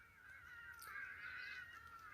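Hadeda ibises call in the distance at dusk as they fly off to roost, faint harsh nasal honks drawn out over a quiet rural background.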